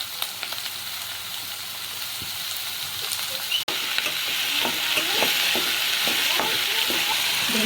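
Chopped onions sizzle in hot oil already crackling with mustard seeds and cumin for an onion egg curry; a steady frying hiss briefly dips midway, then returns louder with scattered spits and pops.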